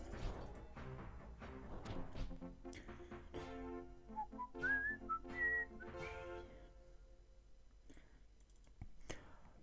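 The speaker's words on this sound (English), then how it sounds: "Bit of out tune whistling for you there." Someone whistles a wobbly, out-of-tune tune in Ultima VII Part Two: Serpent Isle, a few short wavering notes set against clicks, knocks and game music.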